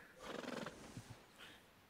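A horse in Red Dead Redemption 2 gives a short, fairly quiet whinny, followed by a couple of soft snorts or hoof sounds in a brief clip.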